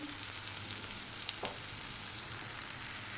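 Eggs sizzle in a pan with plenty of tomato and a little pepper, giving a soft, even frying hiss throughout with a few faint clicks of a utensil.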